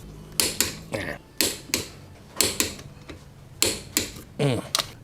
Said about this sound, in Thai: แล้วผมใช้ประแจปอนนะครับ